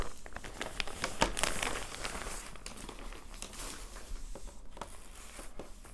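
A plastic zipper bag crinkles and rustles as it is handled up close, with dense irregular crackling strongest early on and softer handling afterward, no voices.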